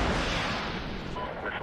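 Missile strike in the Medal of Honor (2010) video game: a dense, sustained roaring blast that fills the clip at steady loudness without separate hits.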